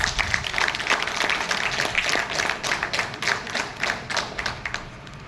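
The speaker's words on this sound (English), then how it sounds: "Please provide a huge round of applause to Anushka Das." An audience claps for a student speaker introduced for a speech on gender equality, a lively patter of individual hand claps and taps, fairly close, thinning toward the end with no talking.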